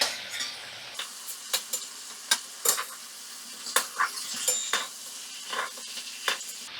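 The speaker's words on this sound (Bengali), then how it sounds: "মাছগুলো 2 মিনিটের জন্য আমি একটু ভাজা করে নিলাম।" Shrimp frying in a pan for a traditional Bengali gourd-and-shrimp dish: a soft sizzle runs underneath while a spatula scrapes and clinks against the pan about a dozen times in an irregular rhythm, close by and alone.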